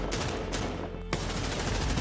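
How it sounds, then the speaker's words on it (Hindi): Fast bursts of gunfire echo through a school in a news reconstruction of an attack, a dense rattling volley that breaks briefly and then resumes. "स्कूल गोलियों की तरतराहट से गूंज उठा"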